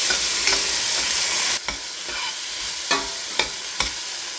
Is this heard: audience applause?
no